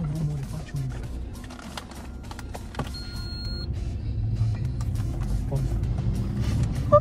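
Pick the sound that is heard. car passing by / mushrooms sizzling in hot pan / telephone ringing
car passing by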